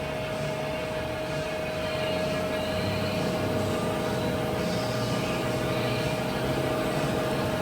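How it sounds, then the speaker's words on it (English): A Jones & Shipman 1300 universal cylindrical grinder runs with only its spindle turning, giving a steady, even mechanical whir with a thin constant whine throughout and no speech. "I just want to show the sound of the spindle isolated."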